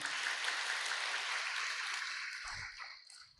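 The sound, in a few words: audience clapping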